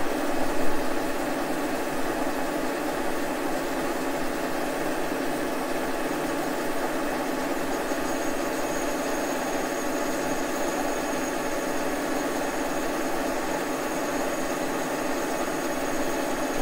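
A milling machine at 360 RPM runs a boring bar through a finish pass in a larger hole, making a steady, dense mechanical hum with a faint high whine and no voices.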